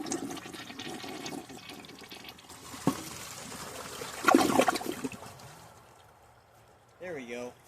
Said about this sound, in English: give it another flush